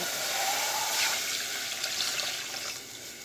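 Continuous hissing sizzle of water hitting a hot pan, loud and close, with a brief louder burst near the start before settling into steady spitting.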